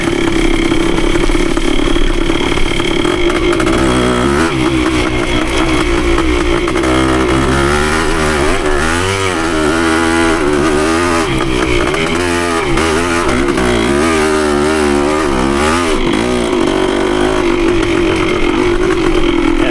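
A Yamaha CT3 175 motorcycle engine buzzes loudly and continuously while riding, its raspy two-stroke-like note rising and falling with throttle changes across the whole stretch, with no talking.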